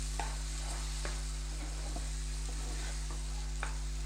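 Tomato puree from two medium tomatoes goes into frying masala for dhaba-style dum aloo and is stirred, giving a soft, steady sizzle with a few faint spoon taps over a constant low hum.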